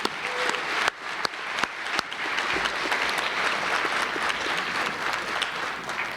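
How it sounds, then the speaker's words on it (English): An awards ceremony audience gives a round of applause for honorees, a few sharp, separate claps opening into a sustained, even wash of many hands, moderately loud and steady to the end. "Please join me and acknowledge them with a round of applause."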